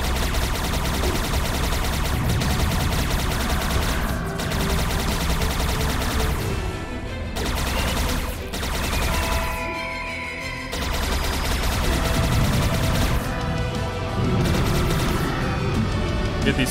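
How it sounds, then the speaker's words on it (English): Cannon fire in a medieval Sengoku-style video game battle, a dense barrage of booming blasts and crackling gunfire, loud and nearly continuous, with brief lulls between volleys. "These fucking cannons."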